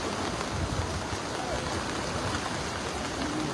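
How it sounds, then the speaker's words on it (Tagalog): Fast-moving floodwater in Marilao, Bulacan rushes steadily with a dense, roaring wash of churning noise, loud and unbroken from start to finish. "malakas ang alon ha"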